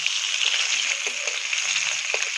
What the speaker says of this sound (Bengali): মাছগুলো ভালো করে লাল লাল করে ভেজে নেবো